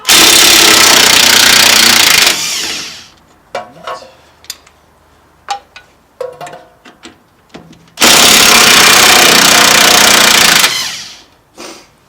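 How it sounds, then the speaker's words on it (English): Removing a 17 mm bolt on a 2008 Honda Civic wheel-bearing job, a loud impact wrench hammers in two long rattling bursts, with clanks and tool handling heard between them and a short blip at the end. "17 millimeter, and then just use an impact."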